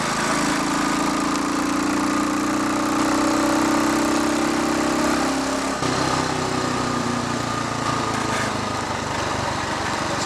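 A Royal Enfield Bullet Watsonian 500T motorcycle single-cylinder engine idles close by with a steady, even thump, the note dipping slightly partway through with no talking.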